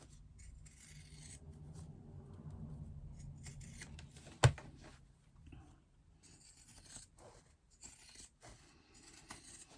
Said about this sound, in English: I'm very excited about having a pair of pinking shears that actually work.